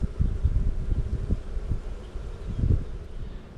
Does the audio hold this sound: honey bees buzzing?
yes